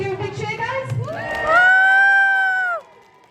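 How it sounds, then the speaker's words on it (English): An audience at a sea lion show cheers and shouts, children's voices mixed in, while a voice rises into a long sustained whoop that ends abruptly. "When he gets to the end, we need to give him a big cheer."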